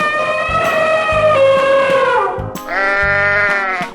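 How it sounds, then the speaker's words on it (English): Two loud, close sheep bleats from a 3D animal slide video game, the first long and wavering, the second shorter and higher after a brief pause, with quiet game music underneath. "Sheep."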